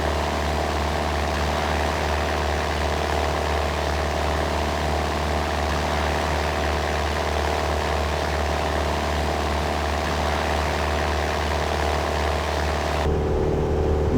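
Steady propeller drone of a single-engine Cessna 172 SP Skyhawk in cruise flight in the Aerofly FS 4 flight simulator, a loud continuous engine hum with stable tones that cuts to a duller, quieter tone near the end.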